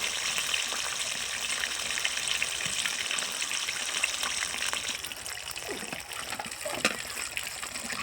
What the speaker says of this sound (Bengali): আরেকটা লেগ পিস আছে, এটাকেও দিয়ে দিচ্ছি তেলে।